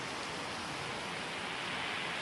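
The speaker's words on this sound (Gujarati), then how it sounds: "ગિરનાર પર્વત પર સીડી પરથી પાણીનો પ્રવાહ વહેતો થઈ રહ્યો છે" Heavy rainwater rushes down the stone stairs of Girnar hill in Junagadh during a downpour, a continuous dense wash of noise with no breaks.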